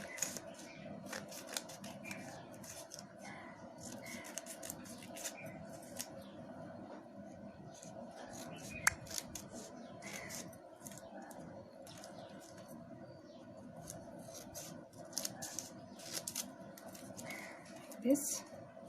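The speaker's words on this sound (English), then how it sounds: "Start cutting small pieces." Scissors snip folded paper into small pieces during a kindergarten craft activity, a series of faint quick cuts with crisp rhythmic clicks under quiet talking and room noise.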